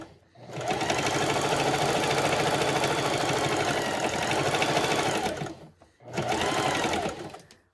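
A basic domestic sewing machine runs steadily, stitching around the corner of a fabric dish drying mat, a continuous close whirring hum that stops briefly, then resumes for a short second burst.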